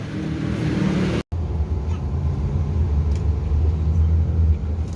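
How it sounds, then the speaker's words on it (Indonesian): A Volvo intercity bus engine gives off a steady low rumble from inside the cabin while riding, with one brief dropout early on before the drone resumes. "Sekarang admin sudah berada di atas bus Beju bosku"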